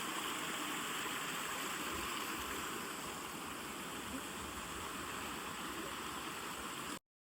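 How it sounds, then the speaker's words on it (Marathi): A large waterfall on the Bhimashankar trek roars steadily and loudly throughout, a dense, unbroken rush of falling water with no voices, cutting off abruptly at the end. "मोठा वॉटरफॉल आहे"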